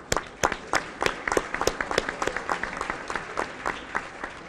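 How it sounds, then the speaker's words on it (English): Applause at the Cleveland International Hall of Fame awards for a color guard: distinct, sharp hand claps from a modest crowd, fairly close, slowly thinning and turning irregular. "Can we give them a round of applause?"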